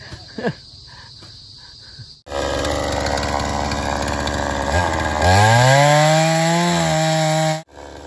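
A chainsaw cuts through a large tree root. After a few light knocks, the engine roars in loud and close, revs higher partway through with a rising whine, then cuts off abruptly.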